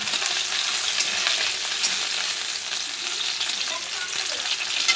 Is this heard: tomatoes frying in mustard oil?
yes